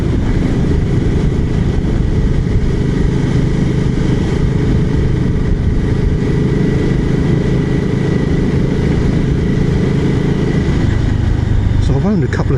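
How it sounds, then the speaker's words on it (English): A BSA Goldstar 650 single-cylinder motorcycle pulls away in top gear at about 2000 RPM, a steady, loud low engine drone throughout with the engine note shifting near the end. "2000 RPM in top gear. And it pulls away nicely."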